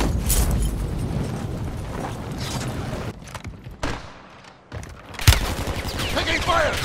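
Gunfire in the shooter game Call of Duty: bursts of rapid shots and crackling battle noise, loud at first, then easing into a quieter lull before a sharp shot and renewed firing, with voices mixed in.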